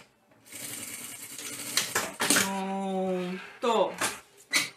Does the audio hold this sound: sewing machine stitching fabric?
yes